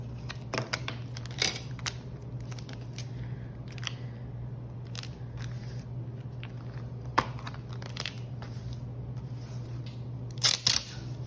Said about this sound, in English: This one does not tear, so you want to use your scissors to cut it.